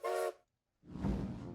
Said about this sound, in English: That's definitely a train whistle.